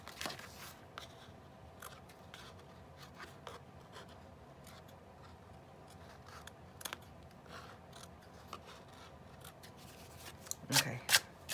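Scissors make small irregular snips while paper is trimmed for junk-journal page tags, close and fairly quiet, with a sharper burst of cutting near the end.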